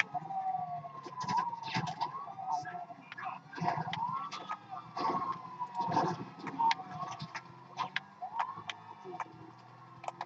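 Police car sirens wailing during a chase in the video game GTA V, rising and falling tones under a busy mix of ticking and clattering game sounds, with someone talking over them.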